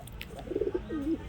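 Pigeons at a market stall give a short, soft low coo, a few quick throaty pulses followed by a longer rolling note, faint and close.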